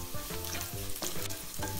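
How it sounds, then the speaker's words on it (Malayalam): Garlic and shallots fry for a mackerel curry, a continuous crackling sizzle broken by rhythmic stirring scrapes, close and clear. "ഏകദേശം ഒരു 6 മിനിറ്റ് വേണം നമുക്കിത് നന്നായി ഫ്രൈ ആക്കി വഴറ്റിയെടുക്കാൻ."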